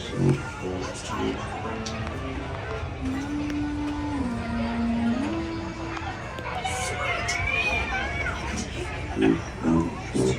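A cat meows a couple of times over a busy, echoing background of crowd noise and droning music in the Haunted Mansion ride queue at Walt Disney World.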